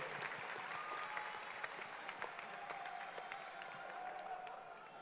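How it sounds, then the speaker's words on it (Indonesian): Steady applause from a studio audience greeting friends introduced on an Indonesian comedy show, dense clapping continuing evenly throughout with a faint tone and a little crowd noise underneath. "Tepuk tangan dulu buat teman-teman kita di sini."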